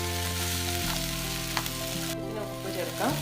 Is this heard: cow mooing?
no